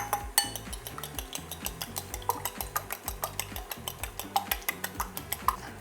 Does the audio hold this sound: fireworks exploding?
no